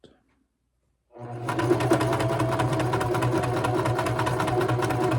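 A sewing machine runs steadily and continuously, close and loud, as quilt pieces for a wonky log cabin quilt are sewn together, starting after a second of near silence.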